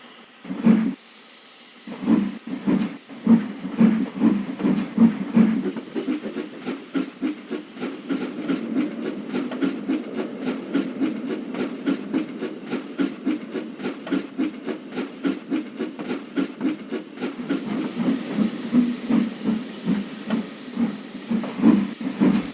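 A steam locomotive chuffs in a steady, rapid rhythm, each beat wrapped in loud breathy hissing that keeps going for the whole stretch.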